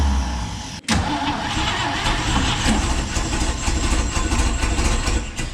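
A 1957 International Metro van engine, neglected for 47 years and helped along with brake cleaner, cranks and then catches into a loud, rough, sustained running roar up close.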